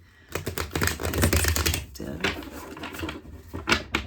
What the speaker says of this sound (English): I'm going to give it a little extra shuffling